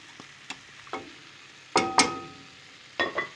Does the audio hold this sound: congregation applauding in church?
no